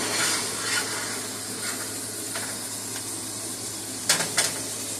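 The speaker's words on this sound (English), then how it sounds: "So now I can go ahead and add my prawns to the pan" Prawns dropped into a hot pan, giving a broad steady sizzle and hiss with faint stirring scrapes and two sharp clinks near the end.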